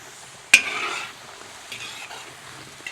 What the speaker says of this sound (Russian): Сейчас мы это все жарим.